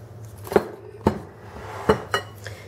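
Whole wheat pancake batter being mixed in a bowl, a handful of distinct clinks and knocks of a utensil against the bowl at uneven intervals, close and fairly faint.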